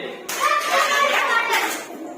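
A roomful of third-grade children clap in a classroom, a steady, fairly loud group patter lasting most of two seconds, with children's voices chattering over it.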